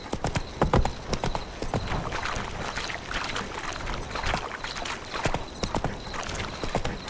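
Roach, the horse in The Witcher 3: Wild Hunt, clip-clops along in a steady rhythm of sharp, close hoofbeats that keep repeating across the whole stretch.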